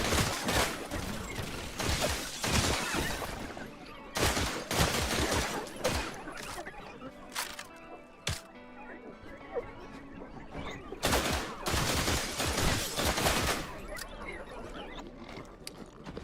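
Shard ammo gunfire from a weapon in The Last Caretaker, heard as bursts of sharp, broadband shots, several volleys spaced across the stretch with mechanical clicks and ratcheting between them, fairly loud and close, with no one speaking.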